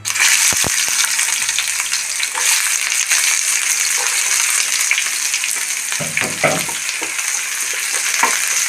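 Chopped onion sizzles in a spoonful of oil in a pan on the stove for a chutney, a loud continuous frying hiss broken by scraping stirs and a few sharp clicks.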